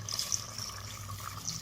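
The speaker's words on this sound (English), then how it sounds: "Now add some water in it." Water is poured into chicken curry cooking in a pot, a faint, steady liquid trickle heard close by and without talk.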